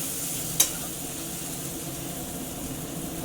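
Banana flower and prawns fry in a pan as ghee goes in, giving a steady soft sizzle close by with one brief sharp crackle near the start and no voices.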